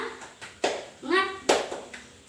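A class of children doing a rhythmic clapping cheer, a few sharp group claps spaced between chanted children's voices in a classroom.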